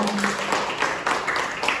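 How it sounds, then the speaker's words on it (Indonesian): Audience applause at a role-play village community meeting staged by nursing students, a steady, fairly distant wash of clapping that holds evenly throughout. "Bisa tepuk tangan kepada"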